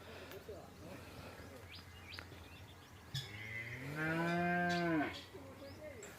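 A cow on a farm gives one long, drawn-out moo close by, rising out of low background noise, with people talking and birds chirping faintly around it.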